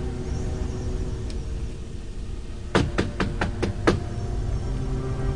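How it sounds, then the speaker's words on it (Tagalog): Rapid series of about six sharp knocks on a door over a steady hiss of background noise, close and distinct, in a quick uneven burst. "narinig ko na may kumatok sa pinto."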